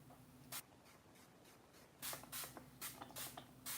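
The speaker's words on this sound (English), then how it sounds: "I am going to go in with this Mario Badescu" Mario Badescu setting spray misted onto skin in several short hissing bursts, one early and a quick run of spritzes later, close and fairly soft with no talking.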